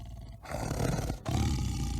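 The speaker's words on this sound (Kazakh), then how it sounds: "Бұл жолбарыстың дауысы." A tiger lets out a deep, rumbling roar, loud and close. The growl fills the whole moment, with one brief dip partway through.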